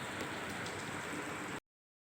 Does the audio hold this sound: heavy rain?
yes